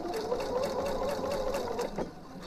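A sewing machine stitches a blouse seam with polyester thread, running in a steady close-up whir for about two seconds, then slowing and stopping as it secures the stitch.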